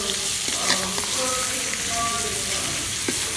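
Garam masala with ginger and garlic paste sizzling in a pan, with a steady frying hiss and a few stirring scrapes.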